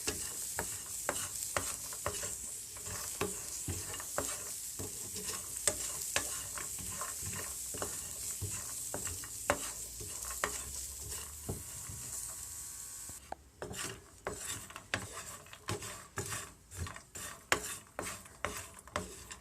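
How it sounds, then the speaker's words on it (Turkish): Almonds roasting in a dry pan are stirred often, a steady light sizzle under repeated scraping and tapping strokes of the spoon, close and fairly quiet, then the stirring grows more distinct near the end. "Bademin kavruk kokusu çıkana kadar kavurmamız gerekiyor arkadaşlar."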